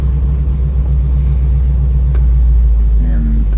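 A V8 engine in a 1968 Pontiac LeMans GTO clone rumbles steadily from inside the car on a snowy road, holding a low drone as it pulls through the gears, with a slight pitch rise near the end.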